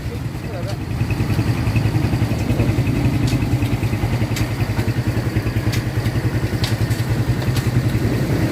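A Kawasaki Barako 2 motorcycle engine with a six-speed conversion runs in neutral at close range, a steady loud throbbing idle with rapid regular pulses and light mechanical clatter throughout.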